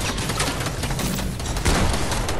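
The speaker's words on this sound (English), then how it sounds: "Oh, he's shooting at me." Dense, continuous gunfire from a video game roars loudly and without pause, a thick wash of rapid shots filling the whole moment.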